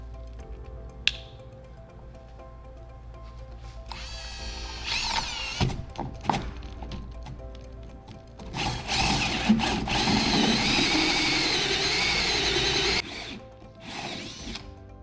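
A power drill spins a hole saw into an aquarium tank, starting with a sharp tap, then whining and grinding in uneven bursts with brief pauses and a long, steady stretch of cutting near the end.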